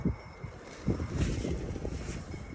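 Steady wind buffets the microphone outdoors in cold weather, a continuous low rumble with gusts swelling and fading throughout.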